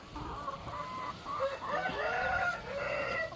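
Chickens cluck and a rooster crows on a farm, close and moderately loud, with overlapping calls and no talking.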